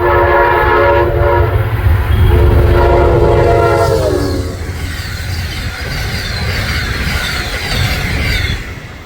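Amtrak Pennsylvanian passenger train passing close and loud, its multi-tone horn blaring for several seconds before giving way to the rumble and clatter of cars rolling by.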